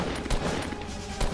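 Rapid gunfire from a Fortnite Battle Royale match crackles in a quick burst, with a couple of sharper shots standing out against a dense, busy game mix.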